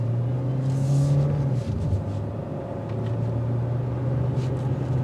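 A 2024 Hyundai Sonata Hybrid Limited accelerates in sport mode, its steady low engine drone and road rumble holding a sustained tone that shifts pitch briefly mid-run, with no speech over it.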